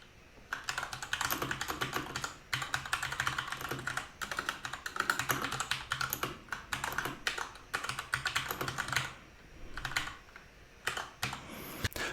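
Typing on a computer keyboard while writing text in a document in the Zettlr editor: steady, close, fairly loud keystroke clatter in bursts with short pauses, no talking.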